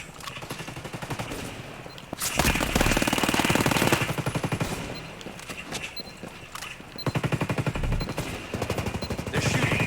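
Rapid automatic gunfire from a bomb-defusal shooter video game, with dense bursts and sustained rattling volleys that swell louder in the middle and near the end, over a constant background of game ambience.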